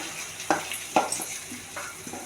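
Onions fry in a pan for Nellai-style aviyal, a faint sizzle broken by a few soft stirring scrapes and clinks close by.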